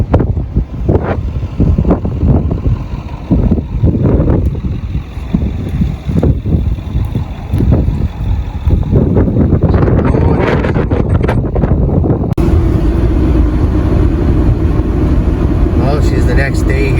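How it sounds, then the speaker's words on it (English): Strong gusty wind buffets the microphone on a nasty wintry road, roaring steadily and loud, with someone talking over it in the first half. "Not doing it justice how windy and nasty the roads are here right now."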